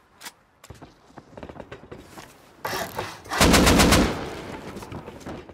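Fortnite gunfire rings out as scattered single shots early on, then builds into a loud, rapid automatic burst near the end, with faint footsteps between the shots.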